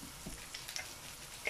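Beef mince, 500 grams, fries in a pan with a soft, steady sizzle and faint crackle, close and continuous without talk.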